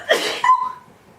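A girl sneezes once, a sharp breathy burst followed by a brief voiced tail that quickly fades, close and alone.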